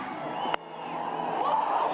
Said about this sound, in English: It is sold out here at Bay Oval, and the noise is getting louder and louder in the anticipation of watching these two play.